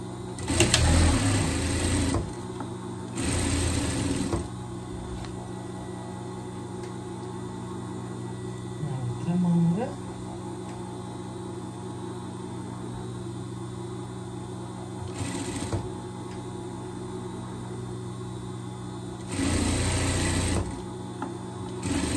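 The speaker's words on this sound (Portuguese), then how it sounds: "Eu vou lá de novo no overlock para passar aqui a limpeza na nossa ribana" Overlock sewing machine running in short bursts while stitching and finishing the ribbed sleeves of a pet sweatshirt, with several loud whirring runs separated by quieter pauses, close by and no talking.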